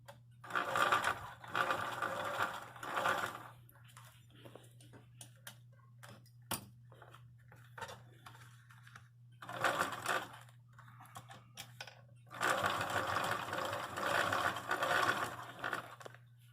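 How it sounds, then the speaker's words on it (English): A sewing machine stitches a vintage trailer A/C cover through several thick layers of fabric, running in three close bursts of steady rapid stitching with quiet pauses and faint handling clicks between them, over a low constant hum. "She's sewn through multiple layers, so it's going to be a little tough going, but looks like she's doing all right."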